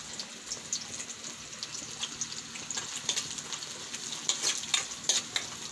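Carrots sizzle and crackle in a hot pan for a noodle stir-fry, with a continuous bright frying hiss and scattered scraping stirs growing a little louder toward the end, close by with no talking.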